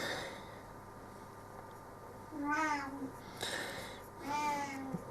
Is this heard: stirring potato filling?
no